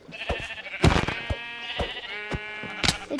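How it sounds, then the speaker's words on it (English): Sheep in a survival video game bleating, several wavering baa calls in quick succession with short clicks between them, close and fairly clear with no talk over them. "There's so many sheep here."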